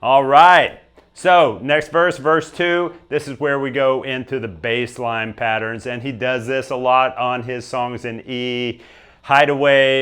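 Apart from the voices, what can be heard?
None of the usual background noises is heard.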